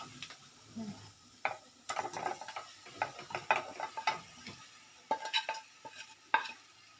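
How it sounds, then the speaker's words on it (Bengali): Spices and green chillies frying gently in a pan, a soft sizzle broken by irregular scraping and clattering strokes of a stirring utensil against the metal. "মশলাটা একটু ভাজবো আমি, হালকা ভেজে নিয়ে এবার এর মধ্যে ডিম আর আলুটা দিয়ে দেবো।"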